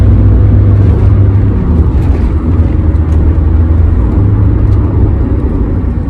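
A BMW E34 fitted with a Toyota 1KD diesel engine and a four-speed automatic gearbox drives along, giving a steady, loud low drone of engine and road noise throughout with no clear gear changes.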